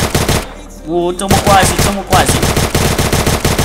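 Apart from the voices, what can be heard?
Scar rifle gunfire in Free Fire-style Minecraft video game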